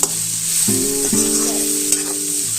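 Bitter gourd fries in a pan with a steady, close sizzle, and a sustained humming tone rises and shifts partway through.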